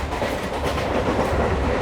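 Passenger train running at speed between Vellore and Chennai, heard from on board as a steady, loud rumble with a continuous clickety-clack roll, and no talking.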